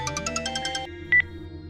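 A phone ringtone plays a quick run of bright chiming notes, then stops, followed by a single short two-part electronic tone over a quiet background.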